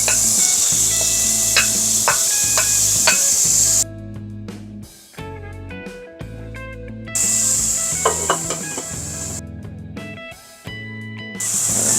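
Tomatoes go into a hot pan for pork sinigang, giving a loud steady sizzle with scraping and stirring noises, broken by short quieter stretches, and no talking.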